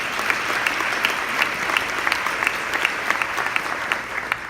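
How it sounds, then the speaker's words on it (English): Audience applause fills a luncheon hall, a steady crowd of many hands clapping with sharp scattered claps standing out, loud and continuous with no talk over it. "we want to give them a round of applause."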